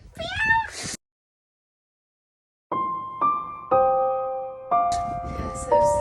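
A single cat meow with rising harmonics, then silence, followed by a run of sustained electronic musical tones stepping through notes.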